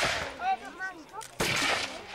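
Artillery fire at a multi-period battle reenactment, the British guns bombarding an earthwork wall: a sharp boom cuts in partway through and rings out into a broad rumble, with a voice commentating over the start.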